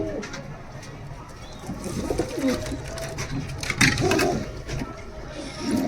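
Domestic high-flying racing pigeons coo steadily in a loft, soft throaty calls repeating under a constant rustle and low background hum, with no talking.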